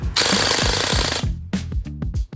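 A Sijun MK18 airsoft rifle with an upgraded high-rate build fires a rapid full-auto burst of rattling shots, then a few shorter bursts, loud and close with no talk.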